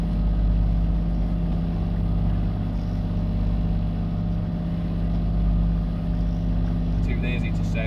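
Steady low engine drone of a sailboat motoring under power at about four knots into a 13-knot headwind, with continuous wind and water rush around it and no talk.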